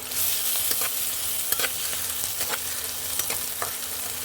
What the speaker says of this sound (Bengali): পেঁয়াজগুলো দিয়ে দিলাম প্রথমে একটু ফ্রাই করতে